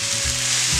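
Garlic and tomato sauce being stirred in a hot pan, giving a loud continuous frying hiss with a faint steady hum underneath, brief and unbroken.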